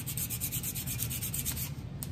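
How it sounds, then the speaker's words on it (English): Sandpaper rubs back and forth over the wooden handle of an auto body shaping hammer being restored, a steady rough scratching in even repeated strokes, close and loud with no talk. "we'll go ahead and start getting this handle sanded down a little bit"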